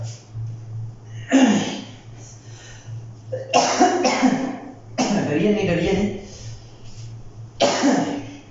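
Several sharp coughs or sneezes burst out in separate bouts, close and loud, with a person speaking between them over a low steady hum.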